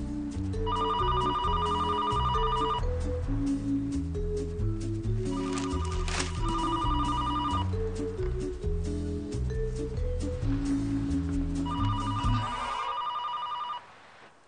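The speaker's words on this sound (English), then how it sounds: "Can anyone answer the phone?" A telephone bell rings in repeated bursts over a busy musical backing, several ring phrases spaced through the passage before it cuts off near the end.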